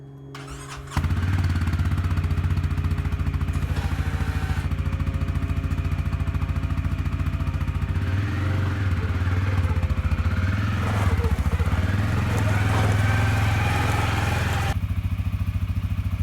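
A 2022 CF Moto C-Force 500 ATV with a 500cc engine and an old-style snow plow mounted, starting up and idling steadily nearby, a loud continuous engine rumble with slight shifts in pitch.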